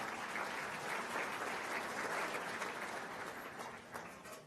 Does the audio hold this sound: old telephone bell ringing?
no